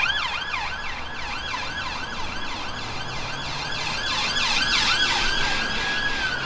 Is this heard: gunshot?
no